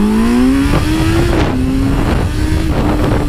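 A Honda CBR 650F motorcycle accelerates hard, its engine note rising steadily through the gears with brief dips at each shift, loud and close.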